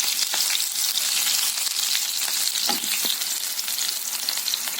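Onion slices cut into rings fry in a pan, giving a steady, close crackling sizzle with bursts of spatter throughout.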